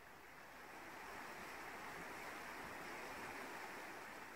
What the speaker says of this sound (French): Entends le ruissellement de l'eau sur des rochers, là-bas plus loin